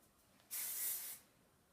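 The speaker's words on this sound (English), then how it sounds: "Girl can never have too much hairspray." Hairspray hisses onto hair in one short, close burst of about half a second, set against quiet room tone.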